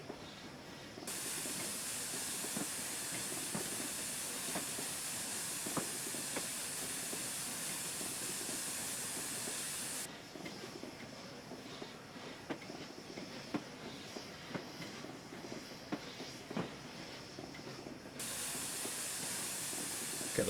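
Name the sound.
steam locomotive Tornado 60163 hissing, video game train sim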